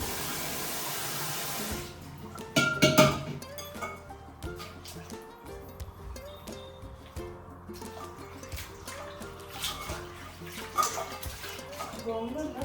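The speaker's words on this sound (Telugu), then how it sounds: "చాలా మట్టి ఉంటుంది ఆ మట్టి మొత్తం ఫ్రెష్గా పోయేటట్టు వాష్ చేసుకోవాలి" Gongura leaves being washed in water to rinse off mud, with splashing and running water sounds close by, a louder burst near the start and steady handling afterwards.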